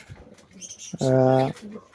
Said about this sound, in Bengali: ড্যানিশ কবুতর এই যে নটটা দেখতেছেন ডাকতেছে